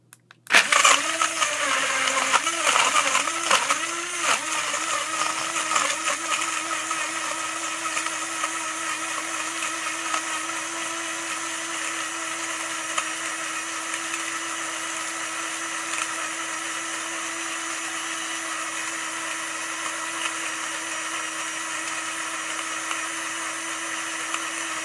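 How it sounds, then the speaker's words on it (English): A Cokunst portable blender runs steadily on its own for the whole stretch, a loud, constant motor whine with a brief bumpy churning at the start as it kicks in, then an even drone throughout with no voices. "you'll actually hear what the blender sounds like"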